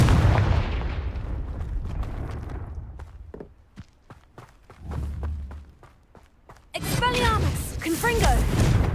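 Confringo explosion spell in Hogwarts Legacy, a booming blast that decays into scattered cracks and thuds, with a low rumble midway and a loud crackling fiery burst near the end, a voice occasionally heard.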